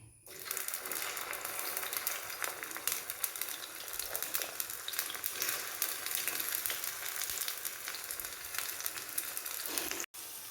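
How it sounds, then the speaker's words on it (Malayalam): Sliced okra deep-frying in hot oil in small batches gives a continuous, even sizzle and crackle from close by. It runs steadily for about ten seconds before a brief break near the end. "ഈ വെണ്ടയ്ക്ക ഒന്ന് മൊത്തം വറുത്ത് കോരിയെടുക്കണം"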